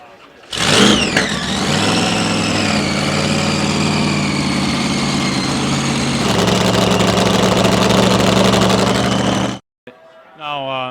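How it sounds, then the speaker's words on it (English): A car engine at a final car show cranks and catches, then settles into a loud, steady idle with a strong low rumble and a brief change in tone partway through, before cutting off abruptly, followed by a short burst of another sound. "I think it's time to fire this car up and knock some moisture off the engine."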